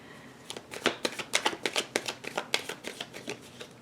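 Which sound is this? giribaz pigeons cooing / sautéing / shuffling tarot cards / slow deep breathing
shuffling tarot cards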